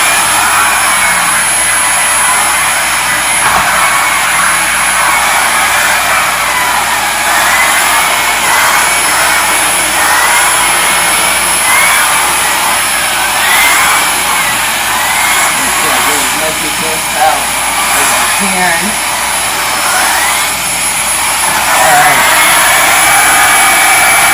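A Samsung Lift and Clean or Dyson Ball Multi Floor vacuum cleaner runs on carpet with a loud, steady, close-up whine and airflow roar throughout, while a person talks over it.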